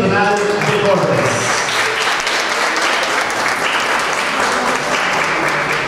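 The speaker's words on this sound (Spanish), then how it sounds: "Para ellos, por favor, un fuerte aplauso." An audience applauds at the closing ceremony of an international cooking workshop in Zacatecoluca, a loud, dense, sustained round of clapping that fills the whole stretch, with voices mixed in underneath.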